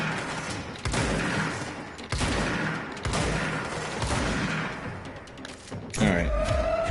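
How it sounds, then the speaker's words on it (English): Bursts of gunfire in the video game Control, several sharp volleys and thuds spaced across the moment, loud and close, with game sounds layered in. "Trying to dodge gunfire behind me."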